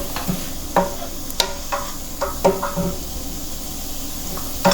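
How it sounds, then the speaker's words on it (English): A chickpea filling with chili flakes and pickled green chilies sautés in a pan, sizzling steadily while a spatula scrapes and knocks against the pan in irregular strokes, close and clear with no one speaking. "Just keep sauteing."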